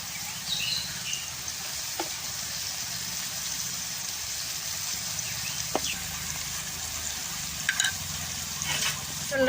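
Garlic frying in oil with leafy greens being stirred in a pan, a steady soft sizzle with occasional scrapes, set outdoors in a village kitchen with birds calling faintly in the background.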